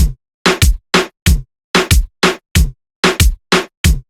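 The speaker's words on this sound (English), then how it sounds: "A typical Raggaeton drum will sound like this" A reggaeton drum pattern repeats a punchy kick-and-snare groove in the familiar bouncing dembow rhythm, crisp and dry with nothing else playing.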